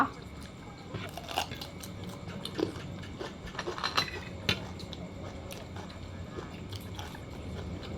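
Crisp biting and crunchy chewing of fresh cucumber eaten close up alongside a cockle and herb leaf-wrap snack, with irregular bites and wet chomps over several seconds and faint room noise.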